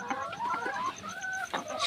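Layer hens in a poultry shed cluck and squawk in short, irregular bursts, several birds close by and moderately loud, with brief gaps between calls.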